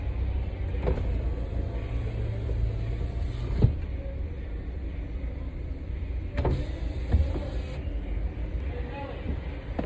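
Power window motor on a car whirs as the glass lowers, two short mechanical runs a few seconds apart over a steady low idle rumble, close by and fairly loud.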